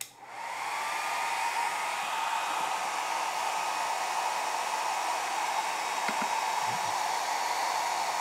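A hair dryer on its low setting, powered by a Bluetti EB3A portable power station, starts up and then blows a steady, even whoosh with a faint whine. It runs alone without pause.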